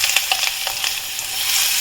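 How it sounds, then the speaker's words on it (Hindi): Smoking-hot mustard oil poured over a spice marinade for tandoori paneer tikka, bursting into a loud, close, continuous hiss and crackle for a brief moment. "मसाले में तेल हम डाल दिए"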